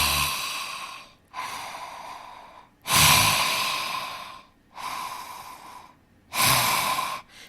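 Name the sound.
lion's breath exercise, breathing with tongue out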